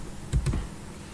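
A few quick keystrokes on a computer keyboard while entering Mitsubishi PLC program instructions with shortcuts in GX Developer software, two short close taps followed by quiet.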